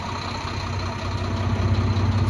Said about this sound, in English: I'm gonna start the truck